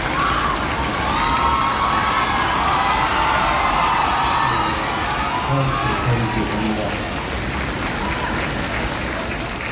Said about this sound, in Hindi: त्रिपाठी जी का भैया के स्वागत में तालियां इतनी बजनी चाहिए कि जितनी पटना की इन हवाओं ने कभी सुनी ना हो।